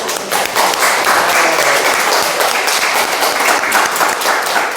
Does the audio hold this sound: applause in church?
yes